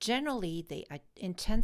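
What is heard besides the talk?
No distinct noise like a dog, phone or traffic.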